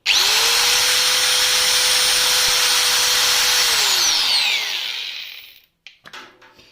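Homemade crusher built from an angle grinder runs at a loud, steady high-pitched whine, then spins down for about a second and stops, followed by a few faint clicks.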